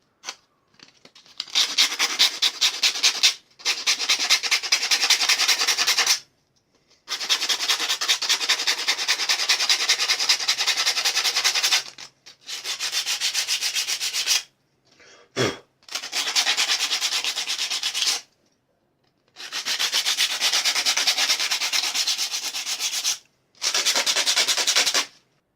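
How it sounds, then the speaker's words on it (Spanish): A piece of sandpaper rubs the cut edges of a circuit board in quick, close, scratchy back-and-forth strokes, grouped into several long bursts separated by short pauses, with no talking. "la idea es con un trozo de lija eliminar esos bordes filosos que le quedan a"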